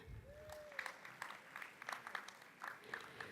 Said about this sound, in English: Let's give Ruth a round of applause, please.